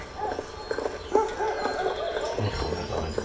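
Horse hooves clip-clopping in the video game A Way Out, a steady rhythmic trot of fairly close hoofbeats over a continuous game soundscape with no talk.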